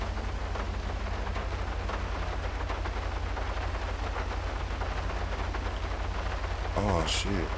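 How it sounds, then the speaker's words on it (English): Steady rainfall in the video game GTA V, a dense, constant hiss of rain with a low hum beneath, unbroken throughout, with a brief brighter burst of sound near the end. "Let's see what that rain gonna look like"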